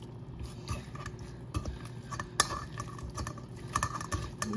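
A spoon scrapes and clinks against a metal strainer as liquid is pressed through it, soft intermittent taps and scraping at close range.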